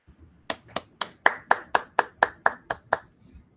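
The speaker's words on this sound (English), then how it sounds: "I say a round of applause." About ten distinct hand claps in an even rhythm follow a talk, close and crisp with short gaps, from a small group rather than a large crowd.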